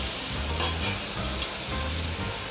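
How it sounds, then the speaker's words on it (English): Dough fries in hot oil with a steady sizzling hiss and a few soft clinks, no talking. "We are gonna start frying our dough."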